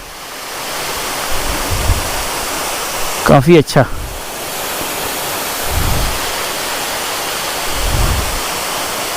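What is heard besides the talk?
waterfall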